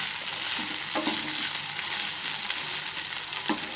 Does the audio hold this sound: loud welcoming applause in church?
no